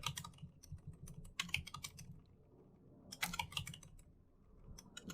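Typing on a computer keyboard while writing Python code, with two dense bursts of rapid key clicks separated by a quieter pause, close and clear with a faint low hum beneath and no talking.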